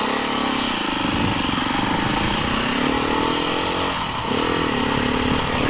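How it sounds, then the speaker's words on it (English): A 2020 Beta 390 RR dirt bike engine runs steadily at moderate revs while being broken in, a loud, close, continuous buzzing drone with a brief dip in pitch midway before settling back. "Keep the revs at a respectable level and not strain the engine particularly."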